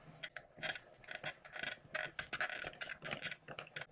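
Hand-cranked embossing machine pressing dyed leather earrings, a close, fairly quiet run of ratcheting gear clicks and mechanical rattles in an uneven rhythm, with no talk.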